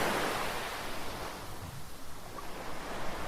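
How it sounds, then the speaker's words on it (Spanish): Ocean waves wash and surge in a broad, soft roar that swells and recedes, fairly close and continuous, with no voices. "meditación guiada para una siesta junto al sonido de las olas"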